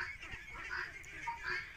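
About 500 farm ducks quack and honk together in a steady, busy chorus, close by, with no pauses across the whole stretch.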